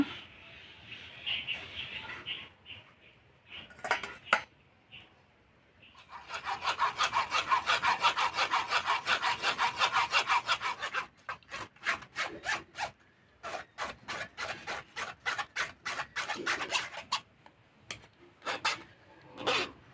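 Ripe palm fruit pulp is worked through a sieve with long bursts of rapid, rhythmic rasping strokes, close and clear, separated by brief pauses and a few scattered scrapes.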